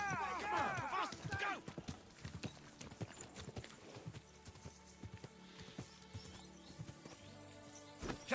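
Horse hooves clip-clop and gallop in the Kingdom Come Deliverance II video game, a quick rhythmic run of near hoofbeats with a brief whinny at the start and game sounds underneath.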